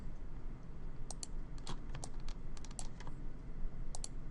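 A computer keyboard is pressed in scattered, irregular clicks, including presses of the shift key, while a 3D modeling program is in use. The crisp taps sound close over a low background hum.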